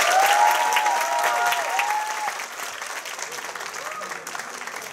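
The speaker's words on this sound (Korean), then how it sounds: "코치님, 선수들에게 박수 한번 보내주세요." An indoor audience at the Incheon United football club fan day applauds the coaches and players, a dense wash of clapping that slowly fades, with a speaker's voice briefly over the start.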